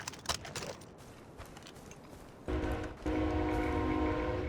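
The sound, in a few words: train passing a house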